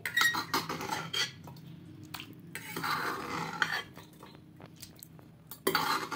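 Chicken soup with carrots and tomato is poured from one pot into another. Metal pots clank and a spoon scrapes nearby, with a short rushing pour between the knocks.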